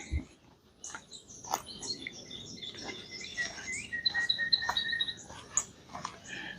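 Birds chirping along a nature trail in a retirement community, several high, bright calls and trills repeating at varying distances over soft outdoor ambience.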